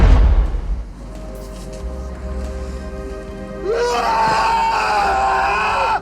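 A man in the film In the Mouth of Madness screams loudly and close, a strained drawn-out yell that rises into a harsh, sustained cry over a low rumbling score.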